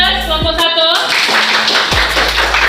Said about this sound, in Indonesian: Silakan beri aplaus kelompok